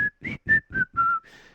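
A short whistled jingle from a Rappi radio advertisement, five crisp clear notes in a quick rhythm, with the last note held and fading, close and alone.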